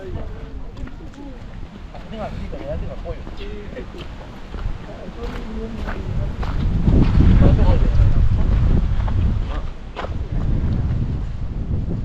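Gusty wind rumbles against the microphone beside a mountain lake, swelling louder in the middle and easing off toward the end, with no one speaking.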